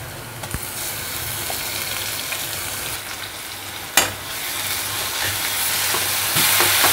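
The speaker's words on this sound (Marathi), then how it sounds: "मसाला चांगला व्यवस्थित फ्राय करून घेऊ।" Ground masala paste sizzles steadily in a pan for a Maharashtrian chicken feet and head curry, a close, constant fry with one sharp clack of a utensil partway through.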